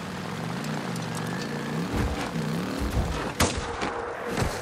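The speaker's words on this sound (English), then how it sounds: "Sniper ambush" Gunfire and explosive cracks in the video game Days Gone during a sniper ambush, with sharp loud bursts near the end over a steady droning, pitch-shifting engine or aircraft-like hum.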